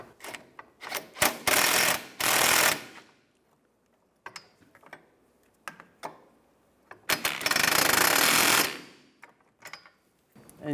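Ratchet wrench tightening a rear suspension link nut on a 2004-2010 BMW X3 during a control arm bushing job, heard as quick bursts of clicking and two longer loud spells of rapid ratcheting, close up with no talk.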